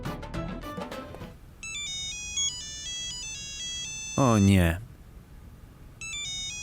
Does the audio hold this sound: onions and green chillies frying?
no